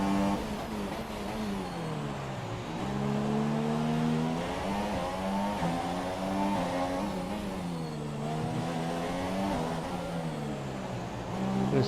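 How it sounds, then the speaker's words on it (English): A Mercedes-powered Force India Formula 1 car in the F1 2017 video game, at the Azerbaijan Grand Prix, screams at high revs, its engine pitch rising and dipping through gear changes and corners, loud and continuous. "Mercedes engine of that Force India."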